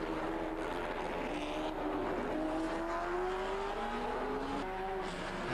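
Historic pre-1966 Grand Prix race cars at Monaco, including a BRM P57, LDS Alfa Romeo and Lotus 21 heading out for practice, with engines droning and rising in pitch amid a dense, continuous wash of noise.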